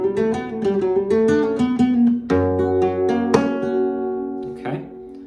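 Flamenco guitar phrase, played alone up close: quick thumb-driven plucked notes in a running line, then strummed chords ringing out with a sharp rasgueado accent near the end.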